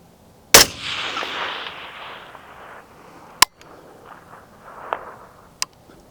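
A 5.56 rifle firing Bone Frog 77 grain OTM ammunition at a long-range target: one loud close shot with a long rolling echo, then a second sharp report and fainter cracks later, outdoors with no talking.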